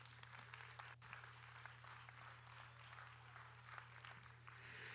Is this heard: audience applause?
yes